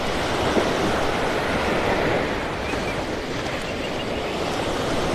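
Ocean waves wash onto a beach in North Naples, Florida, after Hurricane Ian, a continuous broad roar of surf mixed with wind rumble on the microphone, with no talking.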